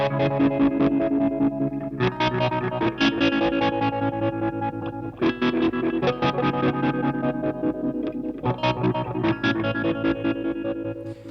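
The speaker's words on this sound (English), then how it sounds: "a sound demo and build report for the Turbo Drive, which is a Colorsound Overdriver" Overdriven electric guitar through a Colorsound Overdriver-style pedal, gritty sustained chords strummed in phrases with a slight chorus shimmer, loud and continuous with no talking.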